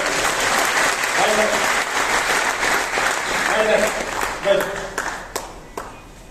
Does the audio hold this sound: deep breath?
no